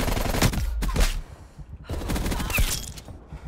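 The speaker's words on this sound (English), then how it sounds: "I just love how shotguns one shot in this game." Shotgun fire in an online shooter game: a few loud, close blasts in quick succession with rattling echoes between them, no talk over the shots.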